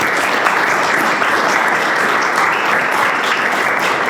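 An audience breaks into steady, full applause to welcome Professor Mark Graber at a university First Amendment lecture, a continuous wash of clapping with no pauses.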